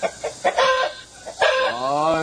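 Chickens in a farm coop cluck and squawk at close range, with short bursts early on and a longer drawn-out call near the end, set against faint background noise.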